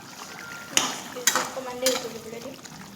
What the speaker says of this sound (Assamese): তৰকাৰীটো কিমান ধুনীয়াকৈ উতলি আছে দেখিছেনে